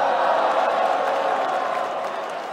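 A large esports crowd cheers and applauds for the SKT team, a broad, steady roar of voices that fades slightly toward the end.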